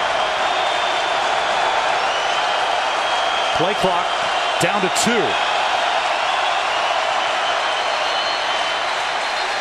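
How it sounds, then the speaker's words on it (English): A steady stadium crowd roar fills a 2016 college football game between Miami and Florida Atlantic. The noise stays broad and constant throughout while a public-address voice speaks over it, with a few brief whistle-like chirps midway. "And a crowd going to cause the delay."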